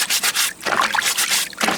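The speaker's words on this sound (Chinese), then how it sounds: "把表面的泥巴给它洗干净哈" Raw oysters are washed and scrubbed to remove mud, giving rapid close rubbing and scraping strokes in short uneven bursts, with faint wet splashes between them.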